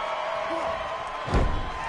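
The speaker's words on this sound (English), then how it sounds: "Once again, slamming that arm to the mat." A wrestling body slam onto the mat in a video game lands as one heavy thud late on, over a steady game soundtrack and faint crowd noise.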